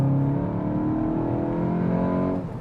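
A VW MK8 GTI with DSG gearbox and Stage 2 transmission tune at full throttle, its engine droning in a steady, close rising note that drops away at the very end.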